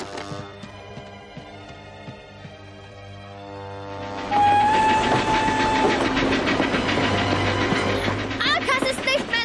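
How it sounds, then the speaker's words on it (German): A train rolls along with clattering wheels, then grows louder with a brief whistle-like tone over a busy, rattling rumble. "Drei gehen der Eisenbahn entgegen und bringen es zum Halten."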